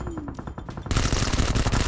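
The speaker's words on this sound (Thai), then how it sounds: "มีเสียงปืนแล้วนี่ไง เสียงปืนอยู่ใกล้เลย" Gunfire rattles in PUBG Mobile, first a quick string of sharp shots, then a louder, denser burst of automatic fire that sounds near.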